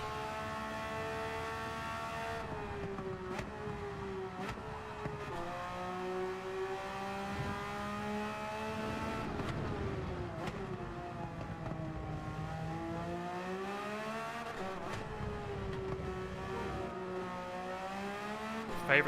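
A Gran Turismo 7 race car engine, likely a Porsche GT3 R on hard tyres, drones loudly and steadily throughout, its pitch sweeping up and down with repeated gear changes and revving.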